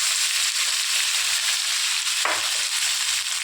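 Onion and a spoonful of spice mix fry in a pan for paneer kofta, giving a steady close sizzle throughout with a brief scrape of stirring midway.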